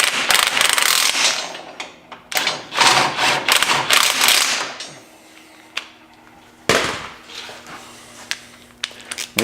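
An impact wrench works on the steering box bolts of a truck in a garage, firing in several loud, rapid hammering bursts separated by quieter pauses and ending in one more sharp burst.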